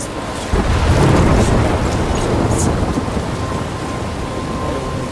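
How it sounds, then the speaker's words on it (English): A thunderstorm in the video game Life Is Strange Remastered opens with a sudden heavy thunder crack and rolling rumble over steady, loud rain that keeps pouring after the boom fades, with no voices. "I'm trapped in a storm?"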